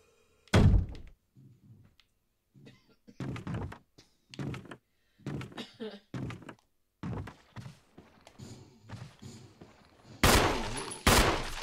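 Gunfire rings out in the video game Resident Evil HD Remake: a string of separate sharp, thumping shots with gaps between them, ending in louder, denser bursts.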